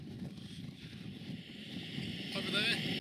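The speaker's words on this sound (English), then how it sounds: "I'm freezing me bollocks off in a windy old tent, flapping about" Wind gusts buffet a tent on open Dartmoor moorland, a steady rushing noise close to the microphone that swells louder toward the end, with some voice-like sounds mixed in.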